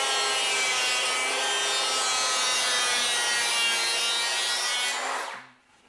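Wood crown molding being planed during installation: a loud, close, continuous rasping hiss of steady cutting that runs unbroken for about five seconds, then drops off abruptly, with no speech.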